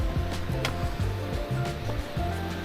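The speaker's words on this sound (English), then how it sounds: "The waterfall down there." Rushing water from a creek waterfall along a Monte Sano hiking trail, a constant loud wash of noise heard up close without talk over it.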